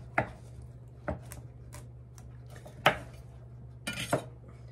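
A knife cutting through a farm-fresh pumpkin on a hard surface: a handful of sharp, separate chopping knocks spaced out over a few seconds, fairly close and loud, with no voices.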